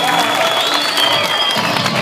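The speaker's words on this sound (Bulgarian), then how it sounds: "Аплодисменти на Славко Добчев" Audience applause and cheering for athlete Slavko Dobchev at a strongman stone-lifting event, a dense continuous wash of clapping from a crowd with voices mixed in.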